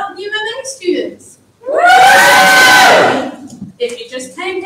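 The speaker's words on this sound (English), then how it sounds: "Can you give me a cheer if you're reading tonight?" Audience at a book anthology launch event lets out a loud cheer of whoops and shouts lasting over a second, with someone speaking just before and after.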